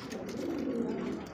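American Lakha pigeons coo together in a brief, steady low murmur at moderate distance, with no voices.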